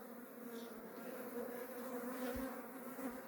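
Honeybees buzzing at an opened hive after a swarm split, a steady low drone with swelling and fading wingbeats close by, no talking.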